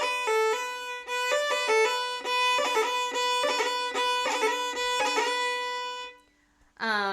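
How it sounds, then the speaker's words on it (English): Irish fiddle playing first finger roll ornaments, a run of quick bowed ornamented notes for about six seconds, close and bright, ending with a brief pause and a short new bowed note. "And then first finger roll sounds like this."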